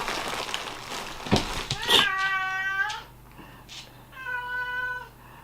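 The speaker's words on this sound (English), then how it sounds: "you might hear the cats walking around and meowing" Several domestic cats meow indoors in a home: a few clear, drawn-out cries, moderately close, separated by short pauses, with a thump and some faint movement early on and no talk over the cries.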